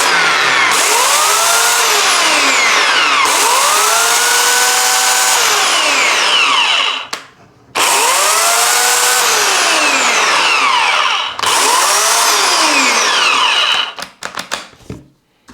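A Parkside PEKS 2200 B1 electric chainsaw whines loudly through three long bursts, its pitch swooping up as it spins up and sagging under load, each run cut off abruptly by a short silence before the next, with no voices.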